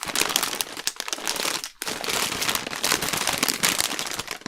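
A plastic bag crinkles and rustles loudly and continuously while being handled close by, holding craft supplies sorted by colour, with one brief pause partway through.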